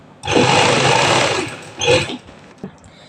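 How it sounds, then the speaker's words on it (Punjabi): Sewing machine stitching fabric in a burst of rapid, loud whirring for about a second, then a shorter second run and a faint click. "ਨਾਲ ਨਾਲ ਤੁਸੀਂ ਨੇ ਉੱਪਰ ਸਲਾਈ ਲਗਾਈ ਜਾਣੀ ਹੈ"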